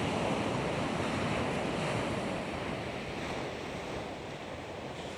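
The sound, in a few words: wind blowing over the ocean during a DJI Neo drone flight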